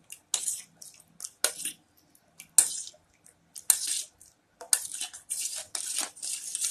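Spoon stirring mint and chili paste into water for panipuri in a home kitchen, a string of short wet clinks and sloshes in irregular bursts, fairly close, with no voices.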